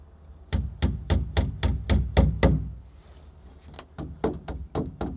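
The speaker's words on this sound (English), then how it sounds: "this is where your tack hammer comes in" A tack hammer taps tacks into a car headliner, giving a quick run of eight sharp close knocks, a brief pause, then another rapid series of lighter taps.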